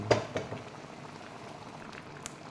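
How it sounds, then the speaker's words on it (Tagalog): Sardines and malunggay leaves boiling in a pot, with a couple of sharp bubbling pops near the start over a steady, soft simmering hiss that continues to the end. "Kumulo na."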